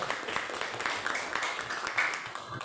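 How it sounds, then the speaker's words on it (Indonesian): A classroom of students applauds a classmate, dense broadband clapping sustained steadily for a few seconds at moderate level. "Tepuk tangan dulu untuk saudara"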